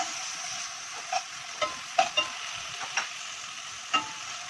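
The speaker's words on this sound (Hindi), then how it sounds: "साथ ही आप इसके अंदर प्याज ऐड कर देंगे। इन चीज़ों को हमने भूनना नहीं है, बस हल्का सा फ्राई कर लेना।" Onions fry lightly in a pan for tandoori pasta, giving a steady gentle sizzle close by, broken by about six sharp spatula scrapes and taps at uneven intervals, with no talking.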